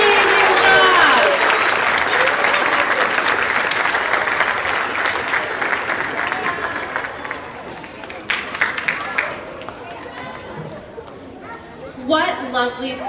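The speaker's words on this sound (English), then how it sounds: "One more round of applause for our 4th and 5th graders." A school concert audience gives a long round of applause to the 4th and 5th grade chorus at Saltzman East Memorial Elementary. The clapping is loud and dense at first, then gradually thins and fades under crowd chatter and murmuring, with a few scattered claps near the end.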